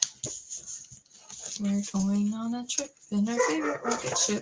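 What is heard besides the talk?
old dog barking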